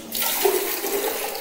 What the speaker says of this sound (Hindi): अब हम आखिरी गुस्ल दे रहे हैं आब खालिस पानी के साथ